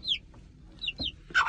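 An Aseel hen gives short, low clucks close by while her chicks answer with thin, high peeps, all within a second or two of quiet farmyard air.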